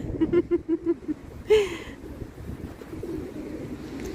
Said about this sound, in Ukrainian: І ось голуб, ви уявляєте?